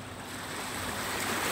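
Sea waves wash continuously along a shore, a soft broad rushing surf that swells slightly in loudness, heard from a distance with some wind and no speech.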